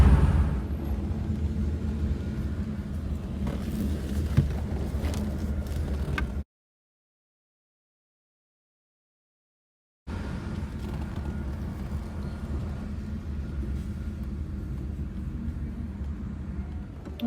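A 1966 Rolls-Royce Silver Cloud driving through Palm Springs gives a steady low rumble of engine and road noise from inside the car, broken by a few seconds of silence midway.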